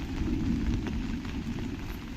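Steady rain falls on a waterlogged vegetable garden standing knee-deep in water, with chilli plants among the crops. The wash of drops is continuous and close, with no talking over it.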